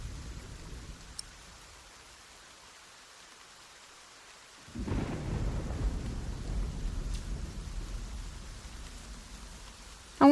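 Rain falls softly until a heavy, close thunder rumble breaks in partway through and rolls on under the downpour, with a sharp crack right at the end.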